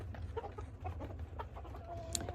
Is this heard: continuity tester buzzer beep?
no